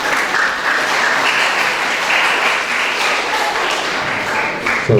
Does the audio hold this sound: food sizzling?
no